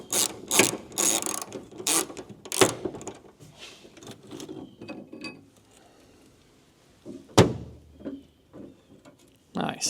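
A hand ratchet works on spring mount bolts, giving quick bursts of clicking and ratcheting with scattered knocks and clanks, close by and fairly quiet, with a voice speaking between them.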